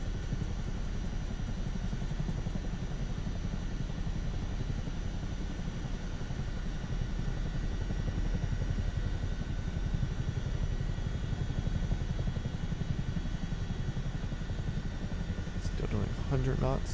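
A helicopter on a round-the-world flight drones steadily from inside the cabin, a constant low rotor and engine rumble that continues for the whole stretch, with a voice heard now and then over it.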